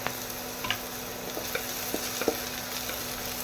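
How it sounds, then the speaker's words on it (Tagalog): Onion and garlic sautéing in a home kitchen pan: a low, steady sizzle with soft stirring scrapes and small clinks, fairly faint and close, with no talking. "Ginasa ko na yung sibuyas bawang."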